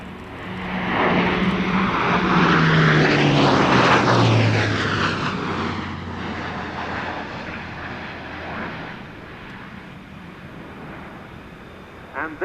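A display aircraft tears past at an air show in a high-speed pass, its engine roar rising to a loud peak with a falling Doppler whine, then fading into a lingering distant rumble.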